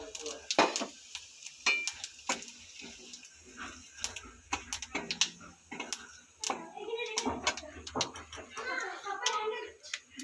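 Garam masala, bay leaves and cumin hit the hot oil left from frying fish and crackle softly, broken by sharp spatula clicks and pan knocks, with faint voices in the background.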